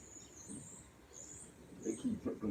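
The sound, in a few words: birds calling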